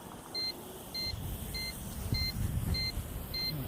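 A foldable GPS quadcopter beeps steadily during return-to-home flight outdoors, six evenly spaced short electronic tones about every half second, over a low rumble of wind and motor noise.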